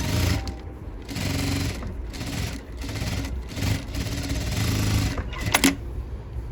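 Sewing machine stitching a sleeveless blouse with a keyhole opening, running in a steady close mechanical whir with brief stops and restarts, no talking.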